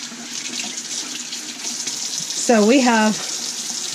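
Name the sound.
RV faucet running water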